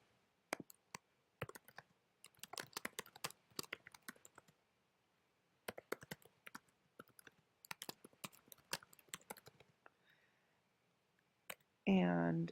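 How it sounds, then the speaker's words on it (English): Bursts of close keyboard typing while a place name is entered into Google Maps, rapid clicking keystrokes in several runs separated by short pauses, with a brief loud noise at the very end. "So I'm going to type in Massachusetts"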